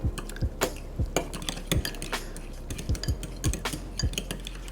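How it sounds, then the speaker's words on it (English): A spoon scrapes and clinks against a bowl while sauce and relish are stirred together, producing irregular close taps and knocks over a few seconds. "Let's get in there and give it a good mix."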